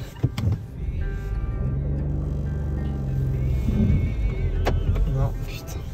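A car stuck in mud whirs and rumbles as its engine strains, with a sustained droning tone and a few sharp knocks. Voices murmur underneath.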